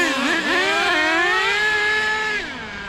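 A nitro-powered HPI Savage RC truck, its engine worn with deep scratches on the sleeve, runs loud and close, a high buzzing whine that rises and falls steadily through the whole stretch, with no voices.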